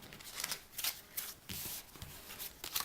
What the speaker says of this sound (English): I'm dealing the cards.